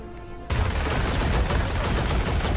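Sustained shooting in the hero shooter Paladins: after a brief quieter moment, a dense, loud barrage of rapid shots bursts in and continues steadily to the end.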